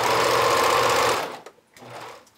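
A sewing machine runs steadily for about a second while stitching a vintage-style bralette, then stops; a few soft handling noises follow.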